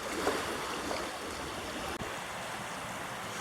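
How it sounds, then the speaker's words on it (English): Waves wash onto a Japanese beach facing the sea toward Sado Island, a steady broadband rush of surf with a soft gusty texture, moderately near and unbroken by speech. "My first Japanese beach."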